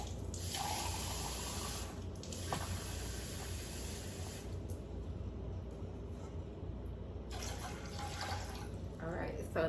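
Tap water runs into a cup being filled for cooking, with several on-and-off bursts of flow over a constant background hum, and someone talking quietly beneath the splashing.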